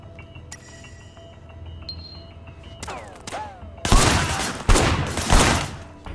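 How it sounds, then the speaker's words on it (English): Gunfire in the video game Sleeping Dogs, shots fired from a car's passenger window: game engine and tonal effects first, then loud, dense bursts of rapid shots in several volleys. "There was a shooter firing shots from the passenger window"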